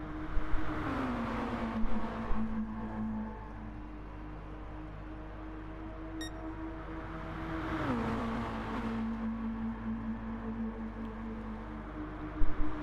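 Race cars in a sportscar racing video game at Blue Moon Bay Speedway, engines droning steadily at high pitch, with two gear-change drops in tone and faint clicks near the end.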